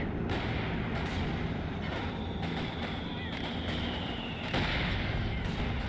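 A grenade explodes in a strategy video game, a loud dense rumbling roar that fills the scene with a sharper burst near the end.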